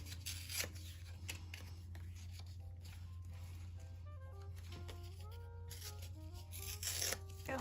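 Scissors snip a paper tag down to size for a junk journal page, a few soft, quiet cuts and rustles under a steady low hum.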